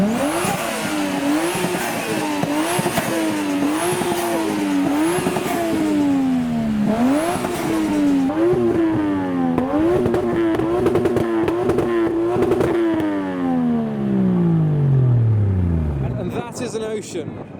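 A modified car engine revs repeatedly, rising and falling in loud bursts, then holds high before winding down, with voices in the background.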